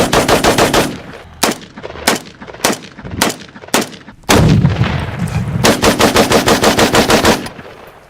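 An AK-47 rifle fires at clown targets in repeated loud, close bursts of automatic gunfire, with rapid rattling shots broken by brief pauses and one longer sustained burst near the end.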